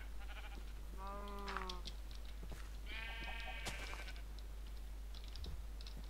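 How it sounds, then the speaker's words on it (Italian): A cow in the video game Minecraft gives two short, harmonic moo-like calls, one after the other, with light keyboard tapping in the background. "che difficile far entrare quella mucca"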